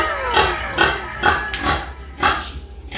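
A Duroc native gilt grunts in a run of roughly six short, close, rhythmic snorts and grunts, evenly spaced and loud, with no talking over them.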